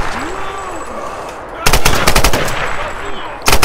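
Rapid bursts of automatic gunfire in Tomb Raider crackle loudly over ambient game sound, a long volley in the middle and another at the end, with someone speaking German before the shooting.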